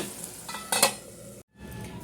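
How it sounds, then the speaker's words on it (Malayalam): A coconut embryo curry bubbles and sizzles in a pan on a high gas flame, with a louder clattering stir partway through before the sound cuts out briefly and the simmering resumes. "ഇപ്പോൾ ഗ്യാസ് ഒന്ന് ഹൈ ഫ്ലെയിമിലേക്ക് വെച്ചപ്പോൾ നല്ലോണം തിളക്കുന്നുണ്ട്"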